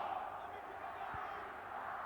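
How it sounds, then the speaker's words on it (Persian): Sepahan football fans cheer in a stadium as a distant, steady crowd roar that fills the background throughout, with a commentator's voice over it. "هوادارهای سپاهان کماکان به تشویق‌های خودشون ادامه میدن"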